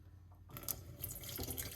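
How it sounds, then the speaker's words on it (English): Hot water pours from a tap into a big cooking pot, a soft splashing, gurgling stream that starts abruptly after a brief quiet moment and runs steadily, close by and fairly quiet. "Right here, I'm putting roughly about 2 cups of hot water."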